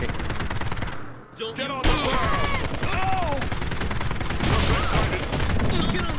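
Automatic gunfire and rapid shots ring out in the video game POSTAL Redux, dense bursts of fusillade-like firing running throughout, with someone talking over the action.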